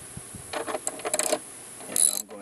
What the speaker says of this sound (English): So I'm going to first use the cheap set, and I'm going to unscrew this.